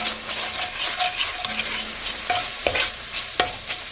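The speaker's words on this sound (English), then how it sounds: "While my bacon is finishing rendering" Bacon renders in a pan, frying with a busy, close crackling sizzle punctuated by occasional stirring scrapes.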